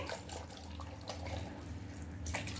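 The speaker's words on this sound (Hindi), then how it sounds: "1 गिलास के करीब जो है हम इसमें पानी ऐड करेंगे" Water being poured into homemade beetroot juice, a steady quiet splashing stream that runs for the whole moment with a faint low hum underneath and no talking.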